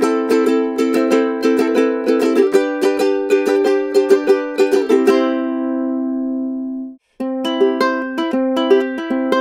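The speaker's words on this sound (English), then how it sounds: "here we have a Mainland concert ukulele" Strummed chords on a Mainland concert ukulele ring out alone and up close, a steady run of bright strums that fades into a sustained final chord, then after a brief silence the strumming starts again.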